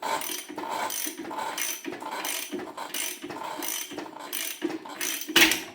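Threaded puller being turned to press a bush into a Salisbury differential, a close, repetitive ratcheting click in regular strokes with brief pauses, ending in a sharper metallic clank.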